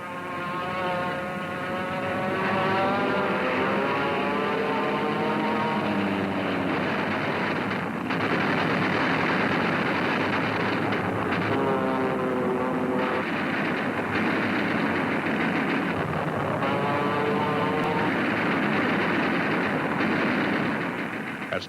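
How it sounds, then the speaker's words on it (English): Fighter planes in aerial combat over the IJsselmeer roar in a dense, continuous wall of engine drone, with repeated rising and falling engine whines and bursts of gunfire woven through, loud and steady throughout with no voices. "When the ack stopped, the fighter planes took over."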